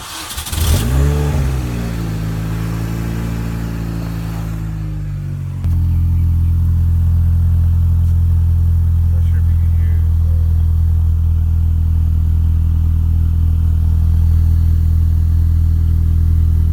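R53 Mini Cooper S with a straight-piped exhaust, recorded right beside the tailpipe: a brief loud rev at the start, then a steady deep rumbling idle that fills the rest, close and alone.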